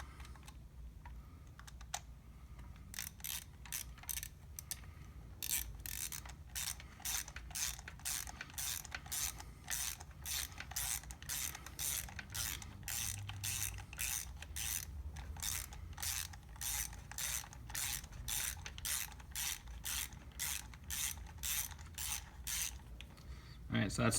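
Ratchet wrench tightening spark plugs into the aluminum head of a Chevy Cruze engine, a long run of steady, close, sharp clicks in quick even rhythm with no talking.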